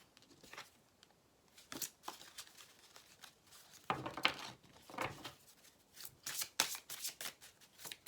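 Tarot cards are shuffled and laid out in brisk bursts of riffling and flicking, with crisp card-on-card slaps and short pauses between, heard up close in a quiet room.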